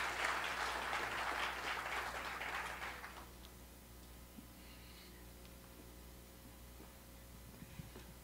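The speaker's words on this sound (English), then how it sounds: "let's give her a warm hand clap" A congregation at a memorial service gives a warm hand clap, moderately loud applause for about three seconds that then fades into a quiet room with only faint scattered sounds.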